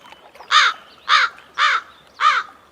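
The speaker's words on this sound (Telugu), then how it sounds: "ఏంట్రా ఆ కాకి చావు చావు నరుస్తుంది?" A crow caws four times in a slow, even rhythm, each harsh call loud and clear against a quiet background.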